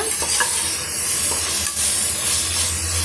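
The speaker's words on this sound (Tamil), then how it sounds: "உப்பு சேர்த்து வதக்கும் போது சட்டுனே இந்த தக்காளி பழம் நல்லா வதங்கி வந்துடும்" Tomatoes sautéed with salt in a pan for a hotel-style potato gravy give a continuous close sizzle and hiss with faint stirring scrapes throughout.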